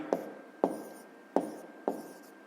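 Pen writing the answer to a fifth-grade maths problem, four soft, evenly spaced scratchy strokes on paper, close and quiet.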